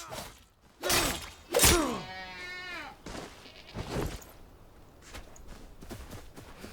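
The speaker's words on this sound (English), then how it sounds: "It's a goat at least. Might have been a sheep." A goat or sheep in the video game Enshrouded lets out one loud, wavering bleat near the middle, surrounded by a few dull thuds and footstep-like knocks.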